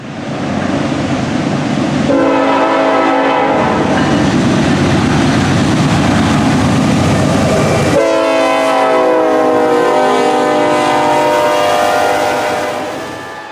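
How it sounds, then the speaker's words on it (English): A loud multi-chime K5LLA locomotive horn on a GE locomotive blasts close by in long sustained sounds, the chord shifting partway, over the rumble of a passing train. "Take for instance this K5 LLA on a GE-9."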